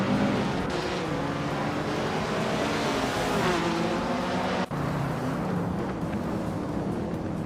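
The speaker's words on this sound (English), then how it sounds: "Baykarn is driving a 1971 Lotus Elan Sprint, known for its lightweight design and nimbleness" A 1971 Lotus Elan Sprint races in a video game, its engine holding a loud, continuous high whine with shifting pitch and a brief dropout near the end.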